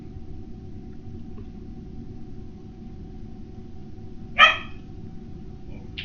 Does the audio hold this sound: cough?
no